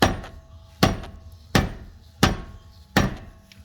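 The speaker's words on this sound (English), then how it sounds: "I had a dead blow mallet around here, one of my small ones" Five sharp mallet whacks from a small dead blow mallet striking a rear wheel bearing on a Volvo V70 XC, evenly spaced about a second apart, loud and close with short decays and no talking.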